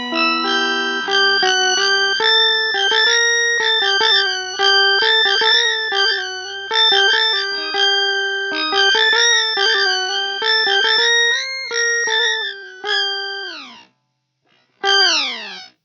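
Electric guitar run through a pitch shifter pedal set to an octave shift, comparing a Lekato Pitch Box and a Digitech Drop: a continuous melodic line of sustained shifted notes with no talk, then a brief pause and one final note.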